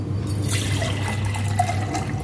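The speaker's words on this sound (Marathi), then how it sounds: "यातनं आता आपल्याला पाणी टाकायचं आहे" Water is poured into a kalash pot for a Navratri puja, a steady close trickling splash that runs without a break.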